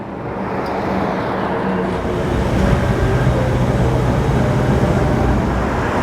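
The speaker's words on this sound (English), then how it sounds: "Obviously I can hear the cars on the road, which you can always hear" A steady, loud roar of cars on a road near a Los Angeles freeway fills the scene as a dense, continuous traffic wash with no single vehicle standing out.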